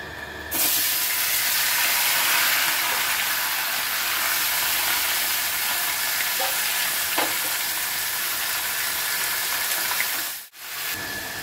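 Chicken pieces go into hot oil already seasoned with bay leaf and cardamom, setting off a loud, continuous sizzle that starts suddenly and holds steady, then briefly drops away near the end.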